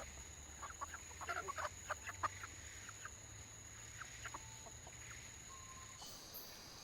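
Chickens in a forest village in Guyana cluck in short soft bursts against a quiet background with a steady faint hum, a few scattered calls continuing until the end.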